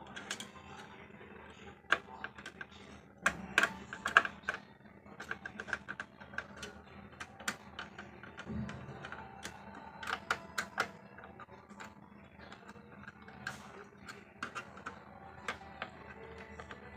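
Small metal screws being tightened down on a CPU cooler after a thermal paste change, giving faint irregular clicks, ticks and creaks of a screwdriver, close up and with no talk.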